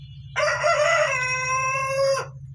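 A Bahama rooster crows once, loud and close, a long drawn-out call lasting about two seconds over a low background hum.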